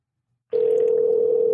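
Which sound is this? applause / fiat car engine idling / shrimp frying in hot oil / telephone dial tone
telephone dial tone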